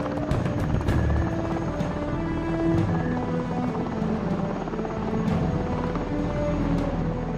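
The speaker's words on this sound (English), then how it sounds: "The helicopter heads out to scan the minefield." A navy helicopter lifts off from a warship's deck to sweep a minefield, its rotor thudding steadily and loud with a sustained turbine whine, alone without talk.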